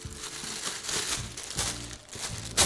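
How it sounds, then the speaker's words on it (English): A plastic bag crinkles and rustles in hands at a clock repair bench, a close, continuous papery crackle with a few sharper crunches. "we have a plastic bag."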